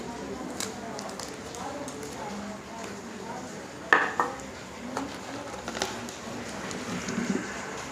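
Someone opens a four-tier stacked biryani container set beside a leaf and a small pot, giving scattered metallic clinks and a couple of sharp clatters, with people talking throughout.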